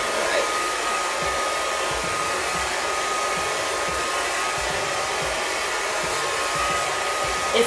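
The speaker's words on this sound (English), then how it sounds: "I'm going to put it on low. And I'm gonna blow dry my hair." A hair dryer blows steadily on its low setting while styling curly natural hair, a constant close-up whoosh that holds at an even level the whole time with no talk over it.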